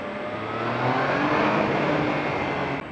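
A loud, close Triumph Sprint GT motorcycle engine revs up and pulls hard, its droning pitch climbing steadily before cutting off abruptly at the end.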